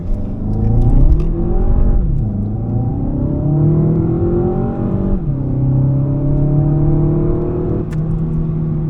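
An Audi A1 40 TFSI in manual mode running 0 to 100 at full throttle: the engine drone climbs steadily in pitch, drops briefly at two quick gear changes, then climbs again. The sound is loud and close, from inside the cabin, with no talking.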